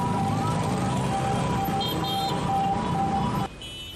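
Ambulance siren wailing in rising and falling sweeps while stuck in heavy Jakarta traffic on a Transjakarta bus lane, loud over dense road noise, cutting off abruptly near the end.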